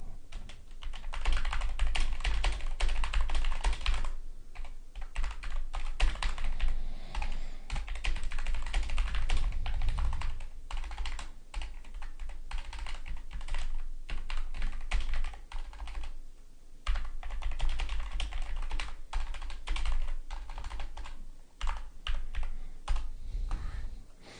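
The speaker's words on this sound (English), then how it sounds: "Where was I just typing that?" Steady typing on a computer keyboard during a casual online hangout, a dense run of quick key clicks at close range that continues with brief pauses throughout, no voices over it.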